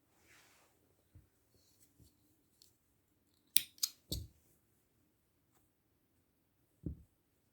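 Scissors snip crochet yarn in a quiet room, with a few faint, crisp cuts clustered close together and one more cut a few seconds later, plus soft handling rustles.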